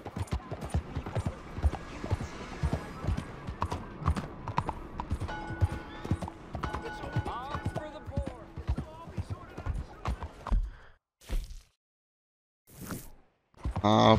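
Horse hooves clip-clop in Red Dead Redemption 2, a steady, close rhythm of hoofbeats under continuous talk, ending in short bursts and near silence.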